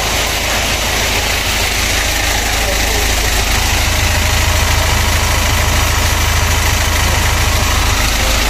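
An older motorbike engine with original clutch and gearbox idles close by, a steady loud chugging hum with constant vibration and no revving.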